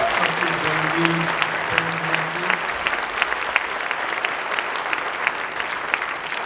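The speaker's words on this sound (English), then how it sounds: "How about a round of applause for the instructors?" An audience at a student jazz concert gives a round of applause for the music instructors, a loud, dense, continuous clapping that fills the room, with a brief voice heard under it near the start.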